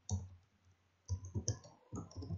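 A computer keyboard clatters in a few short bursts of soft key clicks, close and quiet, with pauses between them.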